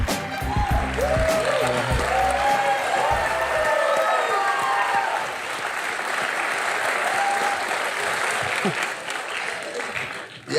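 A studio audience on a talk show gives a long, sustained round of applause for a cricketer guest, dense continuous clapping with some cheering mixed in throughout.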